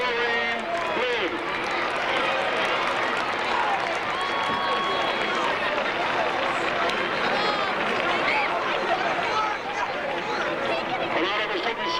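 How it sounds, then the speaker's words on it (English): A large crowd at a ceremony during a high school football event applauds steadily for a faculty member being honored, a dense continuous wash of clapping with cheers and babbling voices mixed in throughout. "Let's have a nice round of applause for Maureen Lynn."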